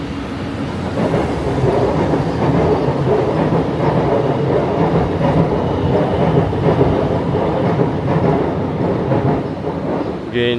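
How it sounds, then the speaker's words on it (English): A Singapore MRT train passes near an outdoor walkway on a hot, humid morning, a loud sustained rumble with rhythmic rail clatter rising and holding throughout. "you can hear a train just passing us by"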